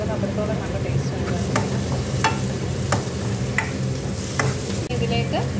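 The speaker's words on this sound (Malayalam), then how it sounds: "നമുക്കിനി ഇതിലേക്ക് കറിവേപ്പില ചേർത്ത് കൊടുക്കാം" Curry leaves drop into hot oil for a tomato rasam and give a steady, close sizzle. Sharp crackles and stirring scrapes break through it at intervals.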